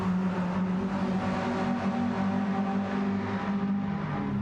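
Engine revving in a racing video game, among a field of VTEC-engined cars alongside a supercharged Suzuki Swift; a steady, loud, continuous engine drone with a sustained low tone throughout, no talk.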